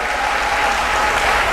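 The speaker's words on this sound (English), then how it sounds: "Let us meet them with a round of applause again." A conference audience at a research meeting applauds a visiting team, a brief burst of loud, full clapping from a large crowd with no talk on top.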